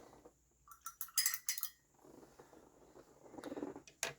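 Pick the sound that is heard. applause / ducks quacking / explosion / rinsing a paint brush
rinsing a paint brush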